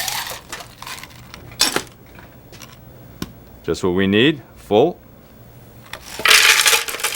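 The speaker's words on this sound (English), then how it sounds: "Let's put in our ice." Ice clattering and rattling into a cup for a strawberry margarita, a few sharp bright bursts at close range, with someone speaking briefly between them.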